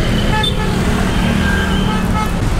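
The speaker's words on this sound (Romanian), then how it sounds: "Băi, un trafic aici de n-auzi nimica, mă." Dense street traffic in a Jakarta suburb: a continuous loud roar of cars and buses, with several short car horn toots cutting through the din.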